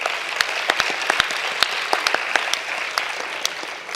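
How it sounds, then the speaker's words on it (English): Audience applauding dance performers at a dance competition final, a dense, even bed of clapping with individual sharp claps standing out up close throughout. "So a round of applause to all of them."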